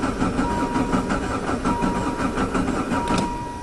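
A diesel caravan's engine cranks over and over as it struggles to start, a loud, steady churning with a regular pulsing rhythm close by and no voices.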